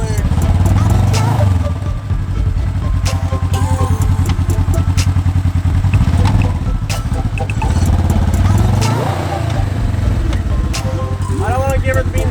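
Polaris RZR 900 Trail Edition 50-inch side-by-side engine idling with light throttle bumps, a loud steady mechanical drone with clatter, close by and continuous, with people talking over it.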